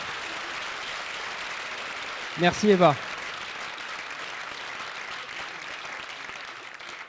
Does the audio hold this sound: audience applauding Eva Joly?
yes